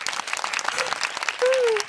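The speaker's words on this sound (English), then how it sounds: "Golf clap again." A short burst of light golf-style clapping from a few people on a morning show, quick and brisk, with voices talking over it and a brief tonal whine near the end.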